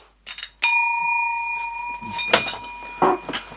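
A single clear ding rings out and lingers with a bright metallic shimmer, while some faint rustling and a short voice-like noise follow.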